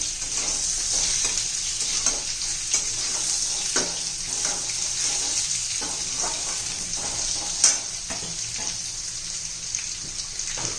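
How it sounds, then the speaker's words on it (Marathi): Diced carrot pieces fry in oil as a steady, close sizzle for a spinach and carrot vegetable dish, with occasional scraping from stirring and no voices. "त्यामध्ये गाजराचा फोडी घालू याही चांगल्या परतून घ्यायच्या तेलामध्ये म्हणजे छान चव येते ना"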